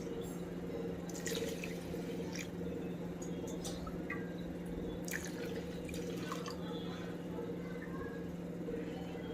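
Rice, khichdi rice and lentils being washed in water, with soft drips, splashes and squishy rubbing over a steady low background hum.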